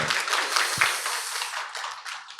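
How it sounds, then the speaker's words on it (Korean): Parents and teachers clapping together at a school admission briefing on a cold day, a dense wash of applause that holds steady close by for a couple of seconds. "우리 다 같이 박수 한번 할까요?"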